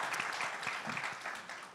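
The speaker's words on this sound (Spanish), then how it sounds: "¿Aplausos?" Audience applause at a competitiveness forum in Peru, a short burst of many hands clapping in a dense patter that slowly fades, with no talking over it.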